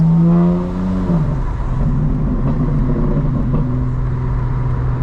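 A 2025 BMW M4 Competition xDrive pulls hard from inside the cabin, engine note climbing through the revs with a deep, steady rumble and a gear change just after the first second, loud and continuous.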